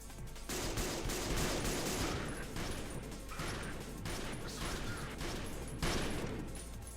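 Sustained automatic gunfire from a Vzor 58 and an AK rifle in the video game Peripeteia, dense rapid bursts rattling continuously for several seconds with brief dips, loud and close with no voices.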